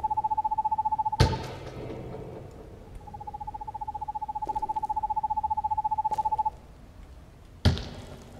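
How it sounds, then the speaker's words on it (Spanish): A bird call in the horror video game Perception rings out as a clear pulsed whistling trill, once briefly and then in a longer run, between sharp isolated thuds. "Un pájaro."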